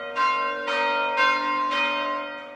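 Monastery church bells ring at Saint Meinrad, four resonant strikes about half a second apart, each ringing into the next with a rich, sustained metallic hum, loud and close with no voices.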